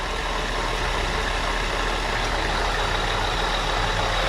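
A 2006 Acura TL engine idles just after an oil change, a steady close-up rumble with an even low hum and no talking.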